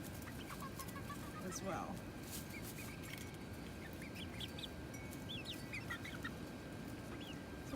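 Backyard chickens clucking around the coop, soft scattered clucks and chirps over steady outdoor background noise, with a brief voice partway through.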